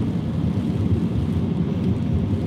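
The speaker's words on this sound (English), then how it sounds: "Man, it's raining." Steady rain falls with a deep, continuous low rumble of thunder, a dense broadband wash throughout with no voices.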